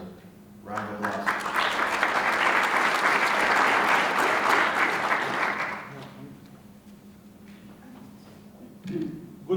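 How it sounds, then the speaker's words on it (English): An audience gives a speaker a round of applause. Dense clapping rises quickly, holds for several seconds, then fades out into room quiet, with faint voices at the edges. "Round of applause."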